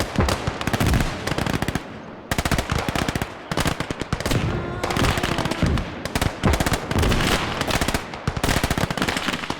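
Rapid bursts of machine gun fire in the video game Gates of Hell crackle loudly and close, several sustained volleys with short pauses between them, echoing slightly.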